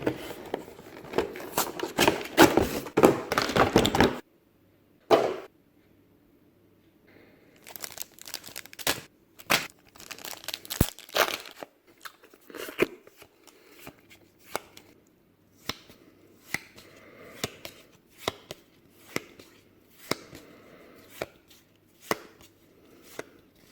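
A Pokemon card pack is torn open with a dense burst of crinkling, then the cards are flipped through one by one, giving a long series of sharp, close snaps and rustles with brief pauses between them.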